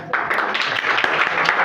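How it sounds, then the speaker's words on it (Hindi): An audience at a Bihar Day ceremony at a high school claps loudly and steadily, honouring students for their marks, with a voice faintly in the mix. "जोरदार तालियां।"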